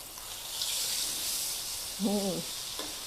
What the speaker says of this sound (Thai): นี่ปลาทู หอมไข่จ้า ค่อยๆทอดไป ไฟอย่าแรงสำคัญไฟอย่าแรงนะคะ